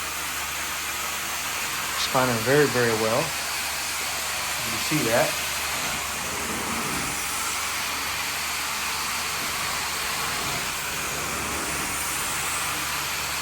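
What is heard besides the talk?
steam cleaner steaming a carpet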